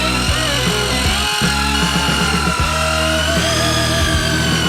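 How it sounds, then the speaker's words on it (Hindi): A construction mixer churns thick dough for a giant DIY Kinder Surprise, giving a loud, steady motorized grinding and whirring throughout with uneven knocking and scraping underneath. "इसे अच्छी तरह से मिलाने के लिए हम इस तरह के कंस्ट्रक्शन मिक्सर का उपयोग करेंगे"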